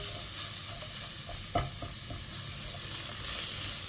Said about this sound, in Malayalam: വഴന്ന് വന്നാൽ നമുക്ക് ടൊമാറ്റോ ചേർത്ത് കൊടുക്കണം.